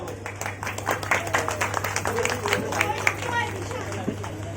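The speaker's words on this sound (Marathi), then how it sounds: "त्यांच्यासाठी टाळ्या वाजवा" An audience claps and applauds for a children's stage play, with dense, steady clapping carrying on for a few seconds amid a murmur of crowd voices.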